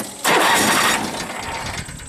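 A Simplicity lawn tractor engine catches abruptly and roars up loudly, then settles into a steady running drone over the brief moment.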